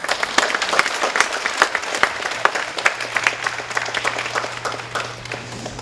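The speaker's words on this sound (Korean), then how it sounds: "큰 박수로 환영해 주시기 바랍니다" An audience at an international healthy-city forum in Gangdong-gu applauds a presenter, with distinct individual claps in a lively, uneven burst that carries on for several seconds.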